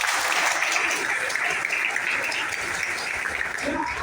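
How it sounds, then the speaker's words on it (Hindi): An audience at a stage event breaks into loud, sustained applause, a dense clatter of many hands lasting around four seconds. "एक जोरदार तालियां होना चाहिए।"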